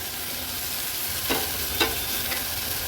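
Masala paste frying in oil in a pan while white peas and knol-khol are added, a steady low sizzle with a few brief stirring scrapes, close and without talk.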